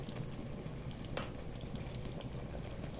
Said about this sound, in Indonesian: Didihkan bumbunya, masukkan dagingnya seperti ini.